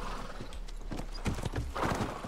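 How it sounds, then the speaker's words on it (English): Horse hooves clip-clop quickly in the battle royale game PUBG, a rhythmic run of close, clear hoof strikes with a brief whinny-like tone. No one speaks. "I was just about to call a horse"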